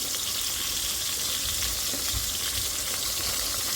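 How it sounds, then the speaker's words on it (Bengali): Spice paste of cumin, ginger and garlic with turmeric and chili being fried in a pan for masala kasha, a steady close sizzle and crackle with faint stirring, no talking. "আমি মশলা কষা দিলাম আজকে মশলার মধ্যে জিরা ফাঁকিও আছে"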